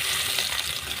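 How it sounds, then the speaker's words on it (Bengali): Cumin seeds and dried red chilies hit hot oil for a spinach bora curry, giving a close, steady, bright sizzle that holds evenly for about a second, with no voices. "তেল গরম হয়ে গেছে, এবার জিরে আর শুকনো লঙ্কা দিয়ে দেবো"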